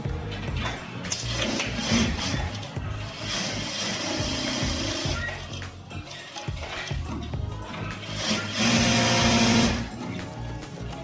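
An electric sewing machine runs in steady stretches while stitching the watch pocket of a pair of trousers, with a brief pause midway and a louder, busier burst near the end.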